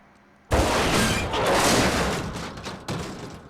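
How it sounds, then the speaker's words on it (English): Gunfire in the shooter game Far Cry as a chain is shot: a sudden loud burst of shots and impact rumble that decays, followed by a second smaller blast. "we're just going to shoot the chain."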